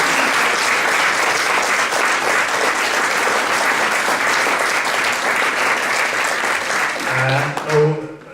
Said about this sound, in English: I think Dick Henson deserves another round of applause for this tremendous work.